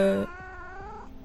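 An indoor pet cat's clear meow starts with a strong tonal burst, then trails into a softer rising and falling cry before fading out.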